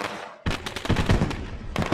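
Fireworks bang and crackle after a truck series race at Charlotte, a loud rapid run of sharp bursts starting abruptly after a brief quiet gap and continuing densely to the end.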